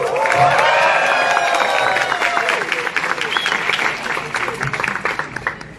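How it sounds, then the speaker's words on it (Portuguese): An audience at a book launch event claps and cheers in warm, sustained applause, loud and close, with scattered whoops and voices mixed into the steady clatter of hands. "E que nós acolhemos aqui com uma salva de palmas ainda mais animada."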